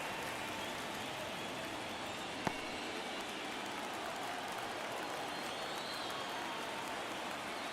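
Postseason baseball crowd at an ALDS Game 2 between the Baltimore Orioles and Boston Red Sox, a steady dense roar of cheering and clapping held at a distant, even level, with one sharp click partway through.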